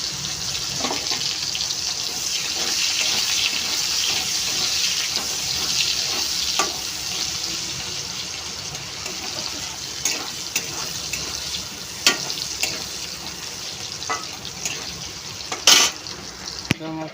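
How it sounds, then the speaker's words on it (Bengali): Onions frying in hot oil make a continuous loud sizzle, with occasional spoon clicks and stirring knocks against the pan near the end. "তেল গরম হয়ে গেছে, পেঁয়াজ দিলাম"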